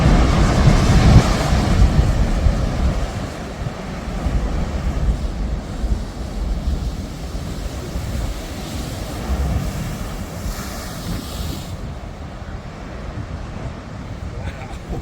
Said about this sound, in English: That's probably an 80-foot tall wave.